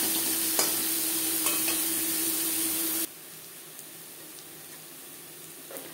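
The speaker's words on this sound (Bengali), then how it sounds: "পেঁয়াজ লালচে করে ভেজে নেব।" Onions frying in oil until reddish, a strong close sizzle with occasional stirring taps that drops abruptly to a much softer crackle halfway through, no speech.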